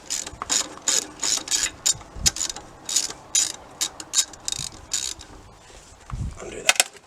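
A ratchet wrench undoes the last bolt on a Ford Falcon exhaust manifold, giving a near, loud run of rapid clicking bursts in an uneven stop-start rhythm, with occasional metallic knocks and no talking.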